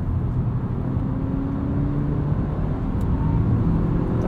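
A 2022 Honda Civic Sport Touring manual hatchback with a 1.5 turbo engine pulls under acceleration, a steady low drone and road rumble heard from inside the cabin, continuous and fairly loud with no talking.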